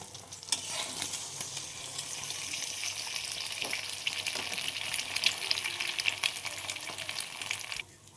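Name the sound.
egg frying in a wok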